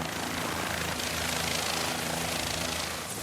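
A helicopter's steady, loud rotor and engine roar fills the whole clip without pause, flying over New York Bay toward Manhattan.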